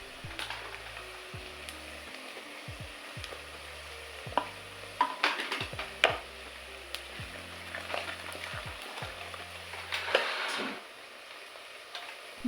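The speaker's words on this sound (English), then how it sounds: "Frying the spices briefly in oil helps release their aroma and deepens the flavor of the dish." Curry powder and paprika frying in oil, a soft steady sizzle with occasional stirring scrapes and small clicks of a utensil against the pan, fairly quiet throughout.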